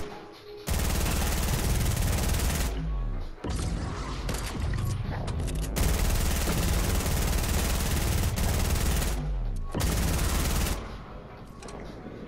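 Rapid bursts of gunfire in the Fortnite video game, aimed at a cube, come in loud sustained volleys separated by brief pauses, with mechanical clatter between runs.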